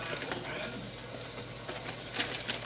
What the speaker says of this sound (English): See how it's sizzling?